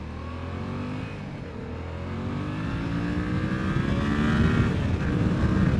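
A 2019 Yamaha MT-07 motorcycle engine drones steadily while riding, its pitch shifting and climbing as it builds speed, loud and continuous with wind rush and no talking.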